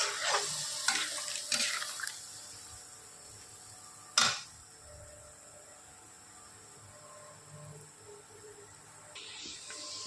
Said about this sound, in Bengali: আমি এবার যতটুকু জল লাগবে একদম অল্প পরিমাণ জল